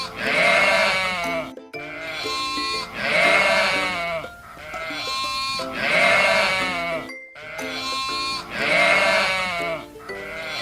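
Sheep bleat loudly and close by, a series of long wavering calls separated by short pauses.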